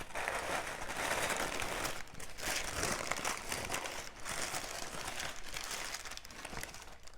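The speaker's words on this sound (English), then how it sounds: "And peel back the tissue paper." Tissue paper inside a beauty subscription box being peeled back and crumpled, close and crisp, with bursts of crinkling that pause briefly before starting again.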